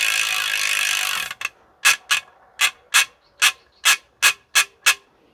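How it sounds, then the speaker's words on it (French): Bicycle freewheel hub on an Elite Six wheel with Ritchey ceramic bearings: a continuous rasping ratchet buzz for a second, then about nine crisp separate clicking bursts in an even rhythm, close and loud. "Alors normalement la roue libre, donc ce sont des nouvelles roues libres."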